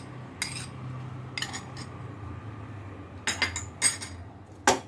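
A spoon stirs saffron-soaked milk into phirni, a rice pudding, in a pot, making a few sharp metallic clinks and taps against the sides over a quiet background.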